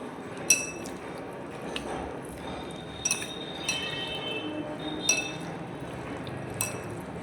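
Chicken being mixed with lemon juice and spices in a bowl, with scattered light clinks of a utensil against the bowl and faint wet sounds, quiet and close.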